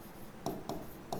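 Chalk or marker taps and scratches on a classroom board come in a few short, faint strokes close by, with no talking.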